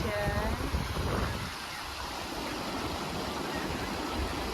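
A steady rush of flowing stream water fills the scene, with a voice speaking briefly at the start over the constant churn.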